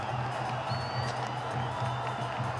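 A cricket crowd at a Sri Lanka versus West Indies T20 match roars and cheers after a wicket, a sustained loud swell of cheering with a commentator's voice over it.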